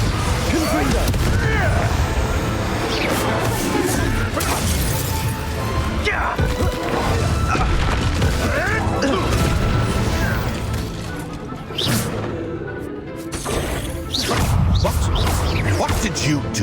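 Confringo fire-spell explosions in the Hogwarts Legacy video game, a dense run of loud crashing blasts and bursts that keeps going with a brief lull near the end, with voices heard during the fighting.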